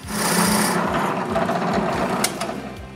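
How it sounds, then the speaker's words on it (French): Holes are drilled into round wooden game pieces, giving a close whirring drill with a rhythmic grinding, scraping pulse as the bit bites into the wood, and no talking. "je perce les trous sur chaque côté des pièces rondes qui en ont besoin"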